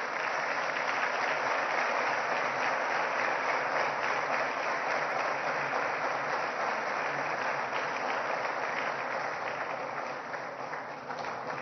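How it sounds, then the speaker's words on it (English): Sustained audience applause at a Lagos State governorship debate, a dense steady wash of clapping that holds loud and even for about ten seconds before easing slightly at the end, with no voices over it. "Can you give him a warm round of applause?"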